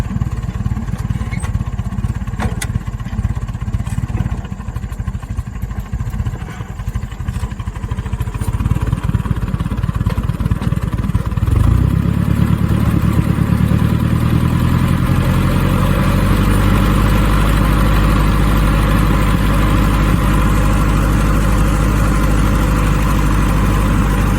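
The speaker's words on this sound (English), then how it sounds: "Making some adjustments to the sprayer tractor." A sprayer tractor's engine idles close by in a garden of raised daylily beds, first rough and uneven, then settling into a loud, steady low rumble for the second half.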